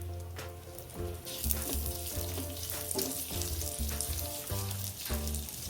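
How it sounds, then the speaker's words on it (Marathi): Poppy seeds fry in ghee in a pan, a close, steady sizzle with faint stirring scrapes throughout, with no speech. "त्याच तुपामध्ये आपण खसखस परतून घेऊया"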